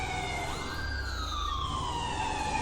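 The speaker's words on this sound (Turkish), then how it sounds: "Ama ambulans da geldi." An ambulance siren in GTA 5 wails, sweeping up then slowly gliding down in pitch over a low engine rumble, fairly close and steady.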